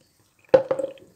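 Water poured into a container of sugar to make syrup for rolled baklava, heard as a brief close splash followed by a second softer splash and a short trickle.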